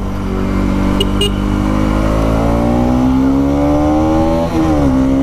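Bajaj Pulsar 200NS ABS motorcycle, a 2017 model, revving loud and close, its engine note climbing steadily then dipping briefly near the end before rising again, with no talk over it.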